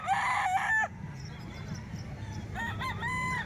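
Roosters crow at a gamefowl sale in an open setting, with one loud, close crow at the start and several quieter crows later, over a steady low background rumble.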